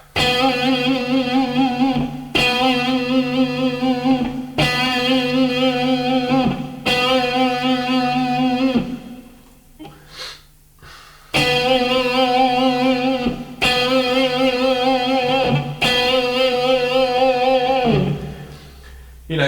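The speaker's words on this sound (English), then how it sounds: "that's the sound of the electric guitar as well, you know, that kind of vibrato" Electric guitar notes ring with a wavering finger vibrato, played in sustained phrases separated by short pauses, with a brief quieter gap in the middle.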